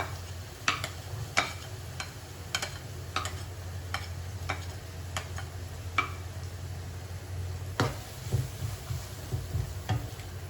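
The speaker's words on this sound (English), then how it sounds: "heat up some oil, then add in your chopped onions" Chopped onions frying in hot oil, a soft low sizzle with irregular sharp ticks of a utensil stirring against the pan, faint and close, no talk.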